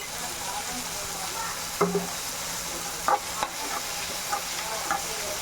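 Tomatoes and salt sauté in a pan with a steady low sizzle, broken by a few sharp scrapes and clinks of a stirring spoon against the pan.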